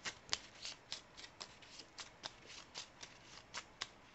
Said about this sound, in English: He shuffles.